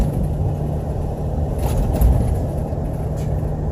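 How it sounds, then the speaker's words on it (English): Steady low road rumble inside a 2019 Ford F450 Limited on a rough ride, with loose gear in the back clattering in scattered knocks over the continuous drone; no talking. "so that's the reason why you're hearing things clattering."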